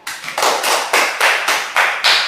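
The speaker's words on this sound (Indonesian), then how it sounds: "Tepuk tangan untuk kalian." Students in a biology microteaching class clap in a steady patterned rhythm, about seven distinct claps ringing out in sequence, close and fairly loud, with no talking over them.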